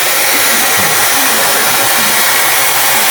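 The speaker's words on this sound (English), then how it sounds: "I'll do it again because it's just so nifty. With the blow dryer, right?" A blow dryer runs continuously during a physics lecture demonstration, a loud, steady broadband whoosh of blowing air heard alone for about three seconds.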